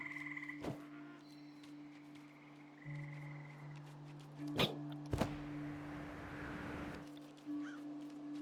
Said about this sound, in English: love the sound of tree frogs